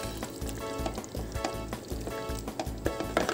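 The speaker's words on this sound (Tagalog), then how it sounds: "Ayan, kumukulo na siya." Filipino-style spaghetti sauce bubbles and sizzles in a pan, with a steady crackling fry and small pops, heard close with no talking.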